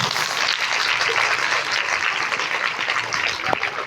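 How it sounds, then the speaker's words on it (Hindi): A school prize distribution day audience claps loudly for a student's science model award, a thick steady roar of many hands that holds strong to the end, with no talking over it. "तो एक बार जोरदार ताली बजाएं आप"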